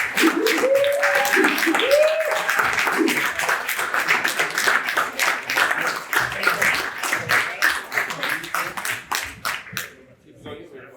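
Audience at a graduation ceremony for 8 to 12 year old boys claps for the graduating students, scattered hand claps that thin out and fade toward the end, with voices mixed in.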